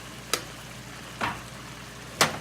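Pepper chicken sizzles steadily in a frying pan while a utensil stirs it, with three soft scraping strokes spaced about a second apart over the low frying hiss.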